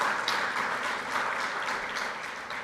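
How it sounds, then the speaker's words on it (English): Audience applause fills a conference hall, a steady dense wash of clapping sustained through the whole moment at moderate level, with no speech over it. "Big round of applause,"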